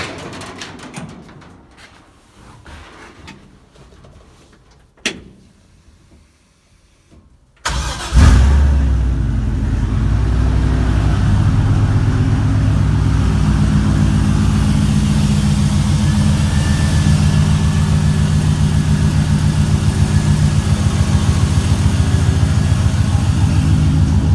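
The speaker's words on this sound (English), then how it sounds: "We're ready for a first start with the turbo hooked up." Turbocharged LS 5.3 V8 on its first start, with some quiet clatter and a sharp click before it cranks and fires, then settling into a loud, steady, throbbing idle close by.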